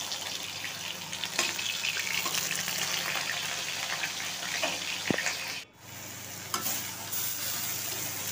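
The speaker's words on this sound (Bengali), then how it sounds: "ঢ্যাঁড়স আলুটা মোটামুটি ভাজা হয়ে যাচ্ছে" Okra and potatoes fry in a pan with a steady, close sizzle and occasional scraping stirs, with no talking.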